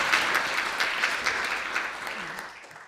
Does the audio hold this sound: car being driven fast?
no